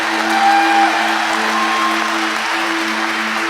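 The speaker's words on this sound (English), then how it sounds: "Let's give them a big round of applause." A crowd at a graduation ceremony claps in a steady, dense burst of applause with a few whoops, with a sustained hum running underneath.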